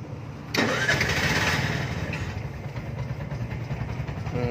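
A car engine cranks and catches with a sudden loud burst, then settles into a steady, close mid-pitched idle rumble with the handbrake set.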